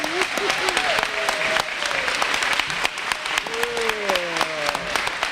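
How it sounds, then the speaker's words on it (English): Sustained applause from an audience at a senior recognition dinner, dense clapping throughout, with voices calling out and cheering over it. "So let's give Lester a big round of applause right now."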